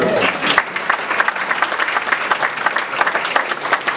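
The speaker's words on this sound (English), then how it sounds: "you might want to give him a round of applause" An audience breaks into applause at a business lunch gathering, dense steady clapping from many hands that continues strongly from start to finish.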